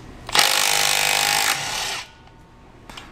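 A Milwaukee M12 Stubby cordless impact wrench zips a car's lug nut loose in one close, loud hammering burst of about a second and a half, then drops to a softer spin before stopping, with small clicks after.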